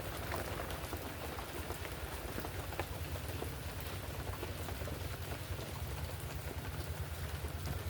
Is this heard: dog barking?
no